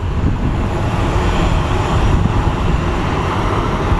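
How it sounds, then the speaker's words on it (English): A passenger airplane bound for Santa Ana rolls for takeoff at Phoenix Sky Harbor International Airport, its jet engines a loud, steady, close roar filling the whole stretch without talk. "let's go take a look at our Santa Ana bound flight as it is getting in a takeoff position"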